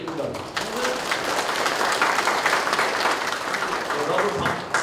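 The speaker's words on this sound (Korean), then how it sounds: "큰 박수 부탁드립니다." Applause fills a ceremony launching the restoration of the Paju Mokgwana government office site, a sustained, dense clapping from an audience, with a voice speaking over the start and end.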